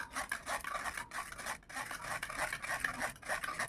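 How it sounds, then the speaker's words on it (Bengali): Tomato sauce is worked through a sieve, giving quiet, rhythmic rubbing and scraping strokes that repeat steadily, close by and fairly soft. "এইভাবে ছেঁকে নেব"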